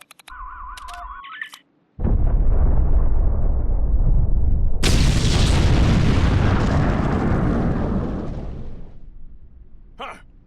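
Big explosion in the Star Trek Online video game: after a short electronic beeping, a deep heavy boom hits, followed by a louder roaring blast and rumble that sustains for several seconds before dying away.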